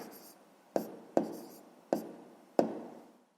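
Hand-written maths working for a sixth-grade fraction exercise, heard as four sharp pen or chalk taps spaced about half a second apart, close and clear with short decays, no talking.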